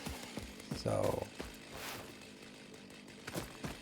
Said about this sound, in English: don't run with a chainsaw, that's not safe.